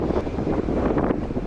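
Strong wind roars across the microphone while cycling on a road in the Pennines, a steady loud low rumble with no speech.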